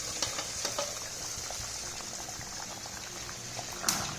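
Mushroom kurma curry bubbles in a pot on the stove, giving a steady close simmer with soft popping and a brief louder splutter near the end.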